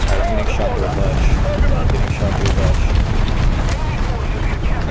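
Tank under fire in War Thunder, with loud, dense booms and impacts rolling continuously through the clip amid battle noise, a voice faintly present underneath.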